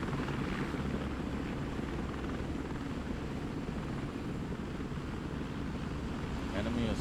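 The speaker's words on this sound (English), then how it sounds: "Helicopter approaching the DZ." A helicopter approaches a drop zone in the video game Broken Arrow, a steady, loud rotor and engine drone filling the whole clip and rising slightly at the end, with no one talking.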